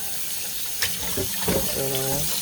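Running tap water splashing as raw chicken thighs are rinsed in a sink, a steady close gush with a few brief gurgles and splashes.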